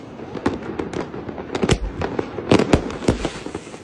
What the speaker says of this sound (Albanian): lëndët piroteknike u hodhën prej kalas, bashkisë, por edhe në rrugë